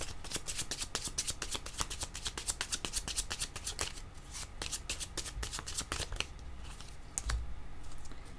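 Tarot cards are shuffled close up in a fast, continuous run of crisp riffling flicks that lasts almost the whole time, with the rapid card snaps slowing briefly near the end.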